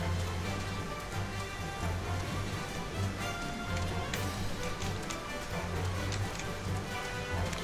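Rain falling in the video game Final Fantasy XIV makes a steady, dense patter that fills the scene evenly throughout, over a low droning hum, with no voices.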